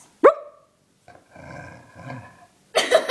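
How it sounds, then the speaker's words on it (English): A pet dog gives one sharp, loud bark, followed by a lower, quieter grumbling vocalization and a brief burst of noise at the end. "Bark if it was a yes."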